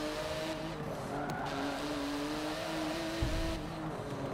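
Race car engine in the Forza 7 demo, a steady loud droning motor with shifting pitch through a tricky corner, a brief tire squeal or bump near the end, no talk over it.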